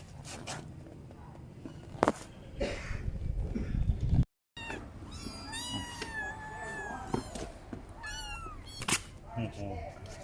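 Several kittens looking for new homes meow repeatedly in high, wavering cries, close by and fairly loud, with some voices and handling noises mixed in.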